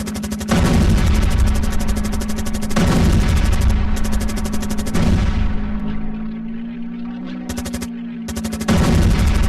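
Machine guns rattle from a fighter plane over enemy ground targets in a Battle of Britain flight game, in loud bursts of rapid fire separated by short pauses, over a steady engine drone.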